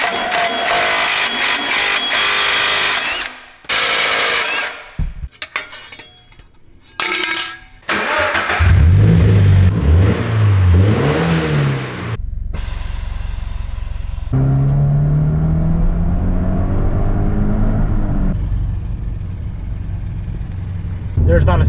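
A Scion FR-S sports car drives along after repairs, its engine starting and pulling through gears with steady mid-pitched drone and rising revs, close up, with someone talking over parts of it.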